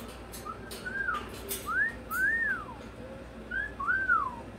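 A pet bird whistles a series of clear, sliding notes, rising and falling arcs in short phrases with brief pauses between them, close and fairly loud over a faint background hum.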